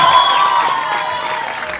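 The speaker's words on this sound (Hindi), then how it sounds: "एक बार जोरदार ताली से स्वागत होना चाहिए सनी देओल साहब का।" Loud audience applause and cheering fill a hall welcoming actor Sunny Deol at the Border 2 teaser launch, a dense steady burst of clapping with no talk over it.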